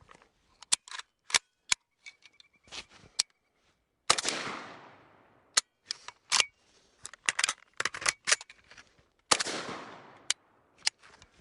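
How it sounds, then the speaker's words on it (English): A Kalashnikov rifle being handled for a bolt-hold-open reload: a series of sharp metallic clacks and snaps at irregular intervals, with two louder, longer rattling bursts, close and loud with quiet gaps between. "now I'm gonna set up for the bolt hold open reload"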